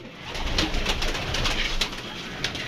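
Pigeons cooing outdoors near a captured young pigeon, a steady soft murmur of calls with noisy background and no talk.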